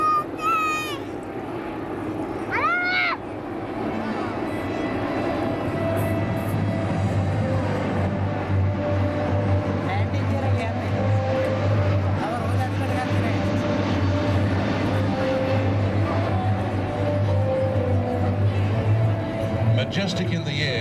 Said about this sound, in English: the largest passenger aircraft in the world today. It is the Airbus